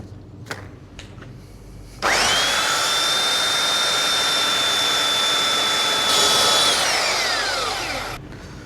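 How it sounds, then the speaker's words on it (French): A belt sander on wood whirs to life after a few taps and runs loud and steady with a high whine, then winds down at the end. "Donc là je joue de la ponceuse à bande."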